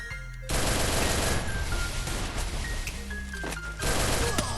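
Rapid automatic gunfire in the mobile game Free Fire bursts out in a dense, sustained volley lasting a few seconds before cutting off, with a short quieter stretch near the end.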